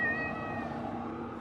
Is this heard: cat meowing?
yes